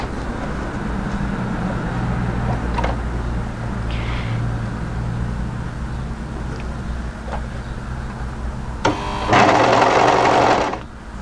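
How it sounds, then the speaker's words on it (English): Sewing machine running a side seam on a mid-length wrap cardigan, a steady low motor hum up close, ending in a brief louder burst of rapid stitching, with no talk. "I always like to sew this with my sleeve on the inside"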